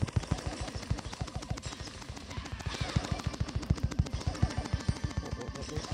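Automatic gunfire in the mobile game Brawl Stars: a steady, rapid stream of punchy shots that continues without a break, with faint layered game effects behind it.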